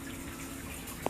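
Water from irrigation tubes drips into a tank, a faint wet trickle running steadily, then two distinct drops landing close together at the end.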